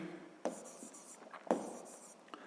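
Chalk or marker writing values on a classroom board, with quick scratchy strokes and two sharper taps, faint and close, with no talking.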